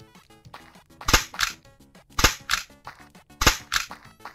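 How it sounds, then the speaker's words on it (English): A modded video game nail gun fires in sharp, punchy shots, with pairs of loud cracks repeating at a steady rhythm over a quiet background, no talking. "Next up is nail gun."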